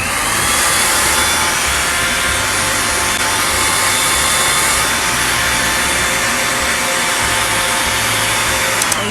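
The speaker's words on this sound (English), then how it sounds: "So now what you want to do is get a hair dryer, blow it down." A hair dryer blows on a lace front wig, its loud, steady whooshing roar holding constant for several seconds with no talk over it.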